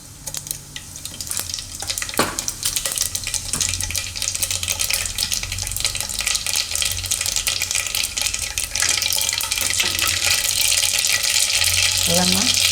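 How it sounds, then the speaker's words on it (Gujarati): Mustard seeds and cumin sizzle and crackle in hot oil in a home kitchen while cooking a Gujarati rice dish, a steady close frying hiss with some popping, with someone talking over it. "તેલ આપણું ગરમ થઈ ગયું છે. તો એમાં આપણે નાખીશું પહેલાં રાઈ"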